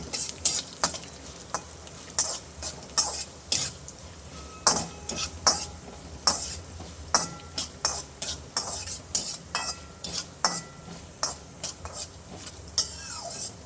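Mustard seeds, cumin, urad dal and chana dal frying in hot oil for spicy curd bajji, with constant sizzling and a rapid run of sharp crackles and utensil scrapes from stirring, no talking.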